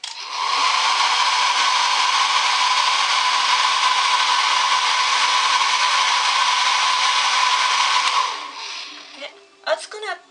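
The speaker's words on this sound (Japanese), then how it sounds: "ここは今回はドライヤーを使って温熱刺激を行います。" Hair dryer blowing warm air, held about ten centimetres away for heat stimulation of acupuncture points; a loud, steady whooshing roar for about eight seconds, then it switches off into a few soft handling knocks.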